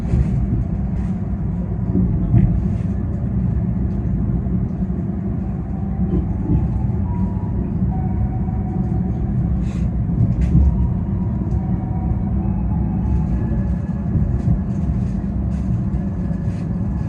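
Kertajaya premium passenger train on an Indonesian railway, heard from inside the carriage: a steady low rumble of wheels on rails with faint rattles and clicks throughout.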